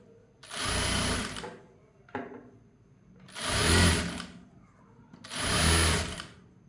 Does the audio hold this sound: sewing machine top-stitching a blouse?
yes